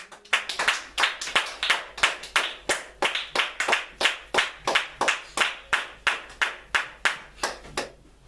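A church congregation claps together in steady, rhythmic unison, about thirty sharp claps over several seconds, loud and close, with no voices.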